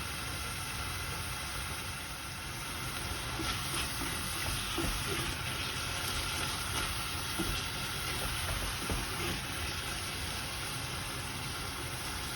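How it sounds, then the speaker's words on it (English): Browned minced meat with red wine steadily sizzles in a pan for Greek makaronia me kima, a soft continuous frying hiss with faint scraping of stirring, quiet and close. "we want to keep on stirring again and let all the wine absorb"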